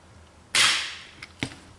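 A Mossberg pump shotgun (500, 835 or Maverick 88 family) dry-fired with a trigger pull gauge on the factory trigger: one sharp, close metallic snap that rings briefly, then two small quiet clicks.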